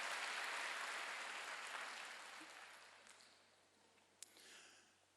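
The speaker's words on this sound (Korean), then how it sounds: "박수." A church congregation claps at a Wednesday worship service: a dense burst of applause that begins full and gradually thins and fades away over several seconds, ending with a faint sharp knock.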